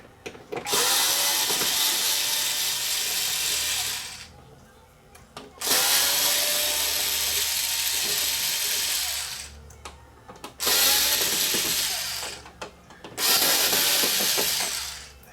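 Power screwdriver whirring in long bursts as screws come out of the back panel of an LG 42LB5D television, four loud extended runs separated by short pauses with small clicks and handling noise.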